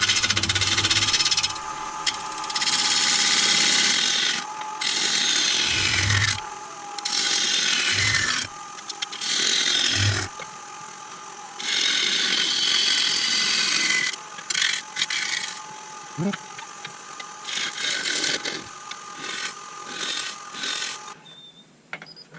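A sharp 5/8 gouge cuts a hazel bowl on a lathe spinning at 1000 RPM, making a continuous rough, rasping scrape in long passes over a steady machine hum, with short pauses between cuts.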